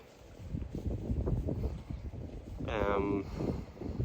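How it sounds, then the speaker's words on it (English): Strong wind buffets the microphone with low rumbling gusts on a farm, and a person speaks over the blustery noise. "it was extremely windy"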